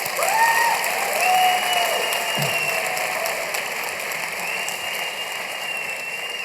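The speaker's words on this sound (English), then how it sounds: "round of applause, please." Audience applause at a Young Rewired State 2015 event, a broad steady wash of many hands clapping with faint cheering, heard from a distance beneath high electronic whistles.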